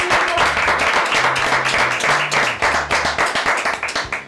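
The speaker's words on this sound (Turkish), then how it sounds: "Hep birlikte Nilgün'e bir alkış istiyorum" A studio audience on the Turkish cleaning competition show Temizlik Benim İşim applauds contestant Nilgün with loud, close clapping that settles into a steady rhythmic beat, a few faint voices mixed in underneath.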